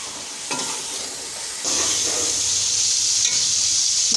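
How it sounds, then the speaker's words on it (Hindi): Spices sizzle and fry in a hot pan for mix-vegetable pulao while a spoon stirs them, first with a softer hiss, then a louder, steady crackle and scrape from about halfway on, close and uninterrupted by talk. "मसालों को हम 5 मिनट तक अच्छी तरह से भून लेंगे"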